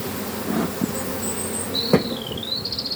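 Honeybee colony buzzing at a hive during swarming season, a steady low hum with faint higher whines and one brief louder buzz passing close, no talking.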